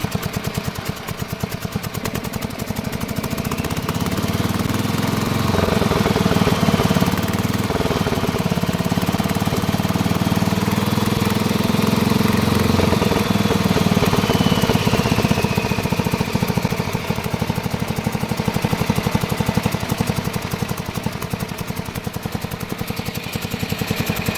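A 1969 Bolens 850 garden tractor with a Wisconsin S8D engine runs steadily and loudly up close, a continuous rough mid-pitched drone with slight unevenness and no pauses.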